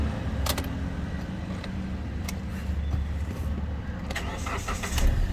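A 2011 Hyundai Verna CRDI diesel car engine cranks and starts with the key, a low rumbling turnover settling into a steady idle, with faint clicks and key jangles over it.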